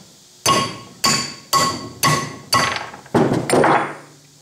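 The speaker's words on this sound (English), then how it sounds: "Now let me put the proper punch in there, or a pin punch" A 5/16 pin punch is struck by a hammer to drive a pin out of a Parker machinist vise, six sharp metallic blows in a steady rhythm about half a second apart, close and loud, with the last strike ringing longer.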